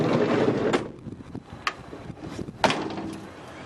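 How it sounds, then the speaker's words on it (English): Several short mechanical clunks and thuds, close by, separated by brief pauses, as a Nissan car door is tried and its locks move. "Just to prove that the door's locked."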